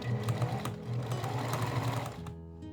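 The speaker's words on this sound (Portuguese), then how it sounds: "Eu começo aqui costurando, dando retrocesso." Sewing machine stitching an elastic waistband onto a simple skirt, running steadily and close with a brief backstitch, then stopping near the end; no talking.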